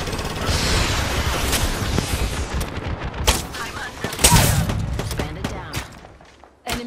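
Automatic weapon fire crackles in bursts through a frantic Apex Legends firefight, with sharp shots and booms layered over a steady battle din and game voice lines.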